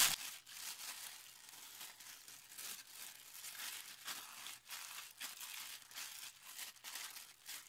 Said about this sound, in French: je prends mon sachet et je malaxe, de façon à répartir l'encre sur tout le ruban.